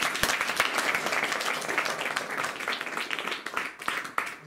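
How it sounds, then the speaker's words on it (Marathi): An audience at a meditation session claps, a dense burst of applause that holds steady, then thins out and ends with a few scattered claps. "सरांसाठी टाळ्या वाजवा."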